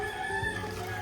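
Chickens and a rooster in a rural province, a brief steady stretch of crowing and clucking at moderate distance, no talk.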